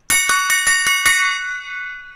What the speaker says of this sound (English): You get the gong.